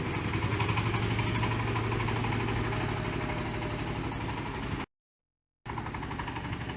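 A truck delivering building blocks turns around on a road, its engine a steady, close, loud rumble and idle throughout, cut by a brief gap of silence before the rumble resumes.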